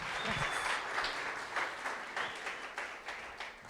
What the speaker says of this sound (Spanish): Un aplauso para ella y para todas las profesoras.